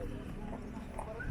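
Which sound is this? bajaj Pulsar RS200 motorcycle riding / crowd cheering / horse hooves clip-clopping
horse hooves clip-clopping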